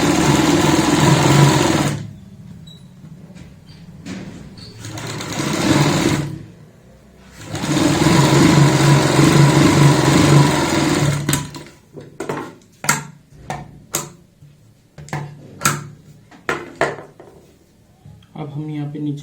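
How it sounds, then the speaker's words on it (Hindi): A sewing machine sews a collar band onto a kurti neckline in loud, close bursts separated by pauses, followed by scattered clicks and short handling noises. "अब हम पहले इसके ऊपर से सिलाई लगा लेते हैं"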